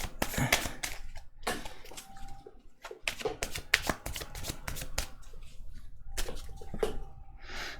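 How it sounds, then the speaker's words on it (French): Oracle cards are shuffled by hand in quick, close riffling bursts, repeated several times with brief pauses between them. "Je vais tirer 3 cartes de chaque jeu."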